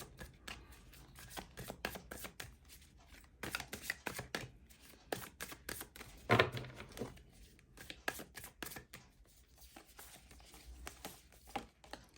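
Tarot cards being shuffled and drawn, a quiet, close series of irregular flicking and tapping card sounds with a louder riffle near the middle and scattered pauses.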